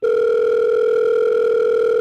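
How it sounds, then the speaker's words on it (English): A steady, loud telephone dial tone hums continuously without a break, a pure electronic two-pitch tone with no voices over it. "I'm about to receive a phone call from Marisa Coughlan."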